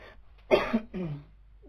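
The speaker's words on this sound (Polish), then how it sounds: "Kaszel mam" A couple of short, harsh coughs close by, followed by a lower throaty rasp, then quiet.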